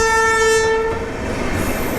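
Bhubaneswar LTT Express passenger train passes close by, opening with a loud, sustained horn blast, then rolling on with rumbling wheels and rhythmic clatter of the railcars.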